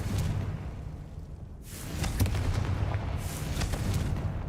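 Spell blasts from Bombarda and Confringo in the video game Hogwarts Legacy erupt as two booming explosions with whooshing rumble and crackling debris over a low continuous hum.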